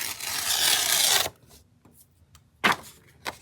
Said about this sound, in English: I'm going to tear a little bit more off.